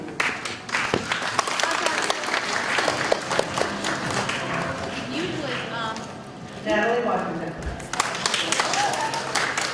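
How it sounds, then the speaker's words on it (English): Applause at a school's final all-school assembly rises and falls in waves of crowd clapping across the stretch, with a speaker announcing a name over it and a brief lull before the clapping swells again. "Please hold your applause to the end."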